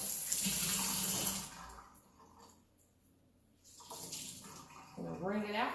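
Tap water runs from a faucet onto a dry Enviro cloth to wet it, a steady broadband splash that thins briefly mid-clip and then returns strongly, with a voice speaking near the end.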